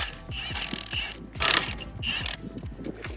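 Ratchet clicking rapidly in repeated bursts while loosening lug nuts on a 2022 Hyundai Elantra N wheel during a brake pad job, close and loud with brief pauses between runs.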